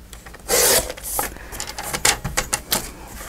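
Paper from a paper pad being trimmed in a crafting session, giving a loud rasping cut followed by a series of shorter scraping and rubbing strokes close by, with no talking.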